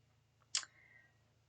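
A die-cut paper stencil clicks into place on a handmade lake-themed card, one sharp close click with a faint ringing tail in an otherwise quiet setting.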